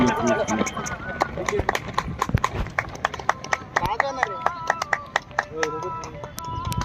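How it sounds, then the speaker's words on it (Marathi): Hands clap in a quick, uneven run of sharp slaps, close by, mixed in with ongoing talking voices throughout. "वाजव टाळ्या"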